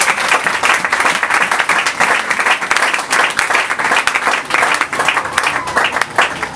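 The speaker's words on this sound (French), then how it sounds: "Est-ce que nous pouvons encore bien acclamer pour le Seigneur?" Congregation applause for the Lord at a church elders' consecration service, a long steady wash of many hands clapping, loud and even, with faint crowd voices beneath.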